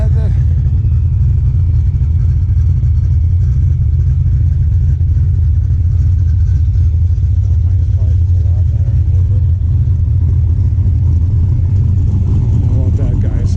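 A Chevrolet Chevelle rolls past at the Cruisin' Hines car show in Hines Park, Michigan, its engine giving a steady, loud low rumble that holds for the whole stretch, with voices talking over it.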